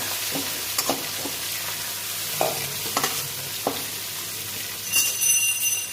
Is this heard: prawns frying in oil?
yes